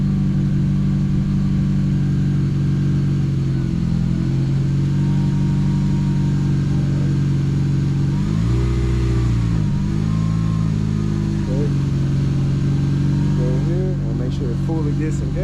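A Honda Civic Si engine, a 2012-2015 ninth-generation car fresh from a transmission install, idles loudly with a steady low hum, dipping and recovering briefly midway as the clutch is eased out in first gear, with a voice speaking over it.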